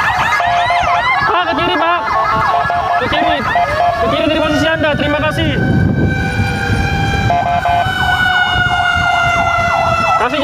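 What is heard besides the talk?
emergency ambulance siren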